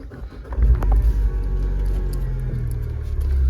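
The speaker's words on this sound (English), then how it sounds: "Just start the car up for you." A petrol MINI Hatch 1.6 John Cooper Works with manual gearbox starts up close by, a quick crank followed by a deep, loud idle rumble that settles into a steady hum.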